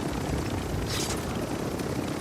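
A helicopter's steady rotor drone in the video game Call of Duty: Warzone, continuous and fairly loud, with a dense low rumble throughout and no speech.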